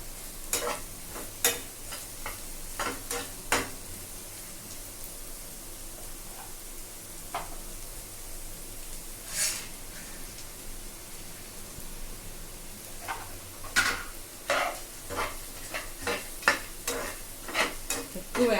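Chili powder being stirred into fried onions in a pan, with a soft steady sizzle underneath and intermittent scraping strokes of a spoon against the metal, close and alone without talk.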